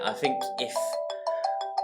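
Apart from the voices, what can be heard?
phone ringing with an incoming call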